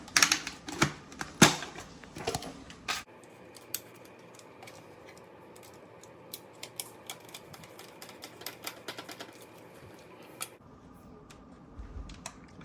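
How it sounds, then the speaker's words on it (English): Small metal screws being fitted back into a Dyson V7 cordless vacuum, giving close, sharp ticks and clicks with a rapid cluster at the start, then sparser taps over a low steady hum. "Put these screws back in."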